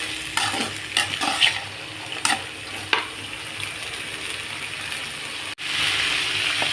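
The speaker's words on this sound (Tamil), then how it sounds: "போட்டு நல்லா கிளறி விட்டுக்கலாம்" A spatula stirs a pan of tempering for country chickpea sundal, scraping in a few short strokes early on over a steady close frying hiss, which drops out briefly near the end.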